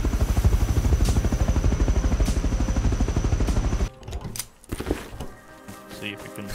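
In the video game Rust, a helicopter thumps with a fast, steady rotor chop for several seconds. The engine noise then gives way to scattered clatter and rumble.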